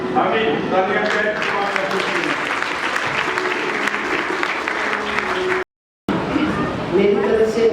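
Church congregation at a Sunday worship service applauding, a continuous dense patter of many hands clapping with a voice speaking over it, briefly cutting out before the applause resumes.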